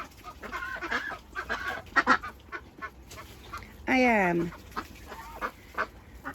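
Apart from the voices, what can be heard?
chickens clucking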